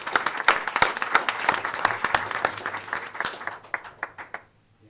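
An audience at a school board of education awards ceremony claps for a student honoured in electrical wiring, a crisp burst of many hands that thins out and fades to silence near the end.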